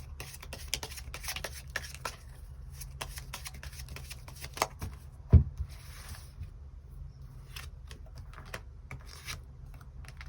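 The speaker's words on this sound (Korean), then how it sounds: "추가 카드 뽑아보도록 하겠습니다" Tarot cards are shuffled and drawn close by. Soft, quick riffling and rubbing runs throughout, with one sharper snap midway and no voices.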